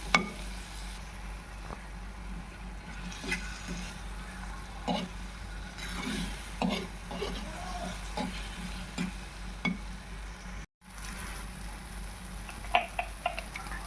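Chili paste being stirred and sautéed in a pan for a fish curry, with a steady soft sizzle and repeated scraping stir strokes. A brief pause comes near the end.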